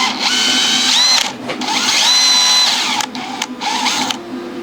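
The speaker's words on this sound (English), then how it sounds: "we're gonna drill through them" A power drill bores holes through a drone's landing gear parts, loud and close, running in two long whining bursts with brief stops and a few shorter pulses near the end.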